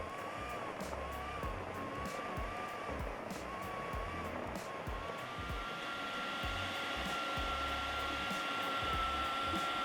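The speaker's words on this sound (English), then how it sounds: "going to pop it in the food processor and blitz it" A food processor whirs steadily as it blitzes stale bread into crumbs, a continuous loud motor drone running the full length with rhythmic low thumps and a slight rise in intensity toward the end.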